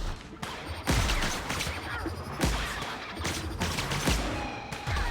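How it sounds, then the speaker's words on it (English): Plasma weapons fire in The Outer Worlds on Nintendo Switch as a fight rages, with loud bursts and crackling blasts repeating every second or two over continuous battle noise. "Gotta love the plasma weapons"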